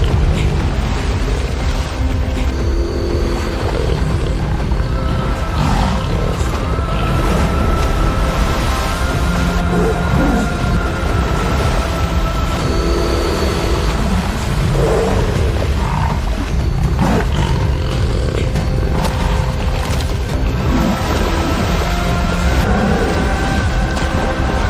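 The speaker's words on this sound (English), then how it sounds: "A ferocious roar, accompanied by the sound of water, tears the silence." A jaguar roars ferociously in the Amazon amid splashing water, a loud, continuous, dense rumble with turbulent thrashing that persists throughout without letup.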